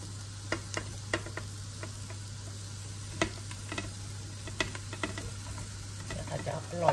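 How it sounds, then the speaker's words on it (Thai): Sausage stir-fried with Thai curry paste in a pan, a soft steady sizzle with scattered small ticks and scrapes of stirring, faint throughout over a low constant hum. "จากนั้นก็เอาไส้กรอกลงไปผัดเลยนะคะทุกคนผัดเข้ากับเครื่องแกงนะคะ"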